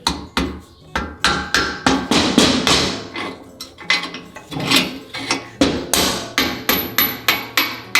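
Repeated sharp hammer blows ring out in a steady rhythm, loud and close, with a few brief pauses between strikes.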